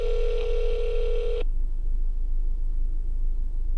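An unanswered telephone call rings out once as a steady electronic ring tone, then cuts off abruptly, leaving quiet line hiss.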